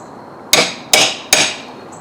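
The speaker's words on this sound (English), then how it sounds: "I'll pull out against them, and it's going to pull the nails out" Three sharp, evenly spaced cracks as nails are pried out of wooden door trim molding, each snapping loudly and close up against a quiet background.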